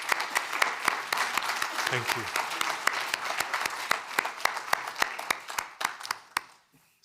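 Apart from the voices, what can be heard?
conference audience applause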